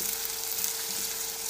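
Crushed ginger and garlic fry with onions in hot oil, producing a loud, steady, continuous sizzle without a break.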